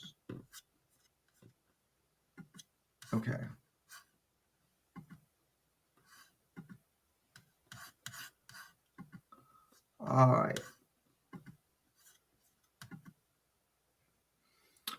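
A laptop trackpad being swiped and clicked, with soft scattered rubbing strokes and sharper clicks across the stretch, mixed with brief bursts of nearby speech.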